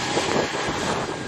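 Airplane engines roaring steadily at Montego Bay airport in Jamaica, a loud, close, continuous broadband drone with no talk over it.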